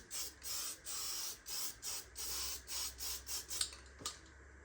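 Short bursts of spray paint dust lightly over the bodywork of a Ford Anglia, about a dozen quick hissing passes in a steady rhythm, close and fairly quiet, with a couple of faint clicks as the spraying stops.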